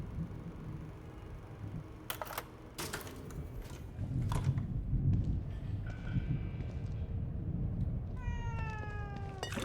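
A cat meows in the video game The Evil Within 2, several short mewing calls near the end following scattered clicks and thumps over a low ambient drone.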